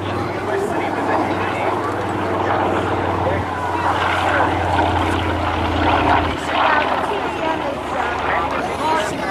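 At the Jones Beach airshow a warbird with a radial piston engine drones steadily overhead, with a continuous throaty propeller hum while an announcer talks over it.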